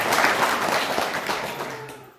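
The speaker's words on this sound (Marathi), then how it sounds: "सर्वांनी टाळ्या वाजवून त्यांचं स्वागत करावं" Applause from an audience at a New Year's Eve event on 31 December 2024, welcoming an arriving guest: a steady wash of clapping from many hands that holds for about two seconds, then fades.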